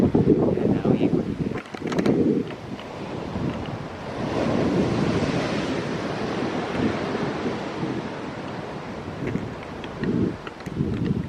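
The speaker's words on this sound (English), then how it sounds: "I like to hear the water." Ocean waves wash against the shore of the island of Montserrat in a continuous rushing surge, swelling and fading, with gusty wind buffeting the microphone and no clear voices.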